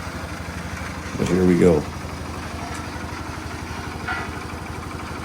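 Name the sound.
Flintstone Mobile engine running while driving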